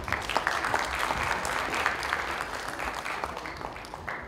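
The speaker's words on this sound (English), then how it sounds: "Let's give a very big round of applause," Applause from an audience at a summit sponsor certificate ceremony, a steady crowd of hands clapping evenly for several seconds, moderately loud with no speech over it.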